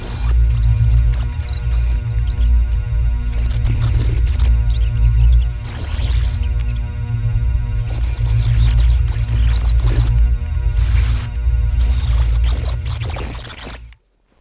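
A rotary tool with a grinding bit whines steadily as it smooths a cracked cymbal, a high continuous buzz with hum, rising and dipping as the bit bites the metal, before stopping abruptly.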